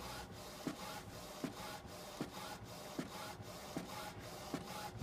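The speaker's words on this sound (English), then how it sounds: "and now it's printing." A sublimation printer runs an A4 print job with dye inks, giving a steady mechanical whir and rub broken by regular clicking strokes about every 0.75 seconds, close and moderately loud with no talk.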